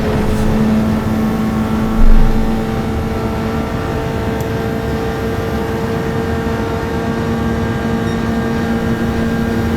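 Race car engine droning steadily on a qualifying lap in the video game Grand Valley Highway, a constant loud hum with sustained harmonic tones and a brief low bump early on, no voices.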